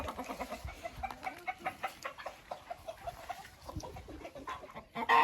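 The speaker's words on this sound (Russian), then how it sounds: "Куры некоторые гуляют, некоторые пришли в вольере, сидят" Hens in an outdoor enclosure give a steady run of rhythmic, moderately near clucks, repeating in quick pulses with a louder squawk at the end and no talking.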